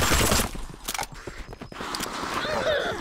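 Bursts of gunfire sound in a free-to-play zombie video game, sharp loud shots in a cluster at the start and scattered reports later, with a player's voice over the action.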